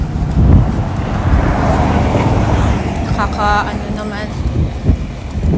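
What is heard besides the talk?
strong wind in a public garden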